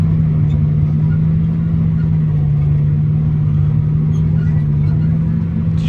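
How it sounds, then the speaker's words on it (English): Engine of a dirt-moving machine growls steadily while digging in, a constant low droning hum at close range with little change in pitch or loudness throughout. "Hear the engine growl."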